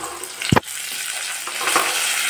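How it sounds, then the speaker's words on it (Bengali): Cauliflower drops into hot oil already holding cumin seeds, bay leaf and potatoes, giving one loud thud and burst of sizzle, then a steady frying hiss with light stirring. "এখন দিয়ে দিব আমি কপি,"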